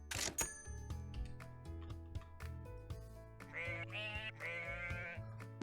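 Sheep in a farming video game let out several bright, wavering bleats over light background music and interface clicks. The calls are clear and moderately loud, and no one speaks.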